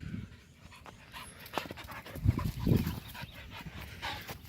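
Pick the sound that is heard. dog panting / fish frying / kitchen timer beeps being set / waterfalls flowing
dog panting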